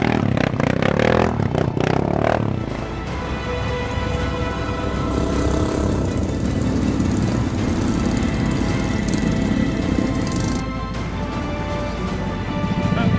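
A motorcycle engine revs hard and strains at high load while being pushed up a steep mountain track, a loud steady rasping drone with a clattering burst at the start.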